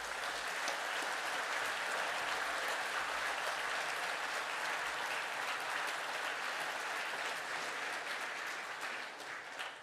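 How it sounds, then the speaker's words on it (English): A standing class receives a long, dense round of applause at a school of science and engineering awards ceremony, with loud, continuous clapping from many hands that barely fades over ten seconds. "Can I ask the class to please stand for a round of applause?"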